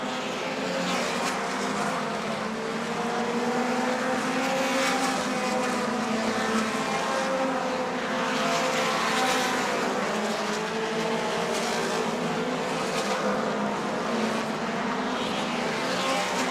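Sprint cars roar steadily around a dirt oval during a Southern Sprint Car Shootout race at Auburndale, engines droning continuously with rising and falling pitch as the pack passes, loud and sustained throughout.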